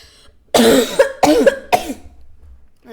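Three sharp coughs in quick succession, loud and close, followed by a brief quiet pause.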